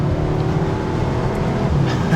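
A 2021 Audi S3 Sportback hatchback pulls hard from inside the cabin, its engine a steady, loud drone with little change as it accelerates.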